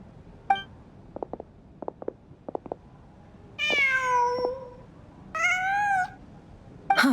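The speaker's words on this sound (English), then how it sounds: "Just a cat." A cat in Genshin Impact meows twice, long rising-and-falling calls, close and clear, among a few soft clicks and taps in a quiet room, with no talk.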